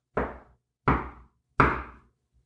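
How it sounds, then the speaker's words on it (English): Three distinct knocks on a door, evenly spaced about a second apart, each a sharp loud rap with a short decaying thud, alone with no talk. "You suddenly hear three distinct knocks at the door."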